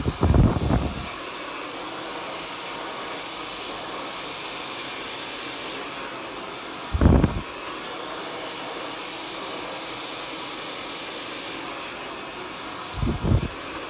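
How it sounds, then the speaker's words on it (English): A hair dryer blows steadily during an at-home step-by-step blow-dry, a continuous airy whoosh broken three times by short louder bursts, with no talking. "So we'll try it now with the hairdryer on."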